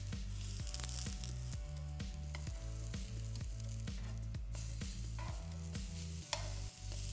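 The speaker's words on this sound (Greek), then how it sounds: "λίγο υπομονή, 4-5 λεπτάκια να ψήσω όλες τις μελιτζάνες" Eggplant slices fry in a pan with a steady, dense sizzle and crackle, punctuated by regular soft stirring or turning knocks every half second or so, with no voices.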